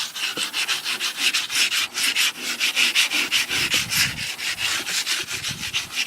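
Crumpled tinfoil dipped in Coke being rubbed back and forth over rusty chrome, making a rapid rhythmic scrubbing rasp with regular strokes about twice per second, close and loud, continuing without pause.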